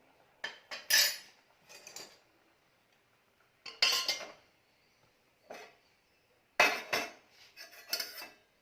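Palm jaggery syrup is strained off the stove with utensils clinking against a metal pot and strainer. The bursts come in short, sharp clusters separated by quiet gaps.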